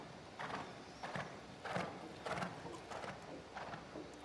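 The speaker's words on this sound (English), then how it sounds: "Quite good canter though." Horse cantering in a dressage arena during an Intermediate II test, hooves striking in a steady three-beat rhythm of soft thuds, fairly faint and at middle distance.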